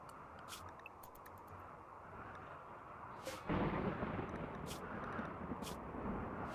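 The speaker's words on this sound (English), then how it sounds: "By the end of the day, a thunderstorm has rolled in." A thunderstorm in the colony sim RimWorld, with a steady bed of rain hiss and a deep rolling thunder rumble that swells midway and lingers, plus scattered bright cracks.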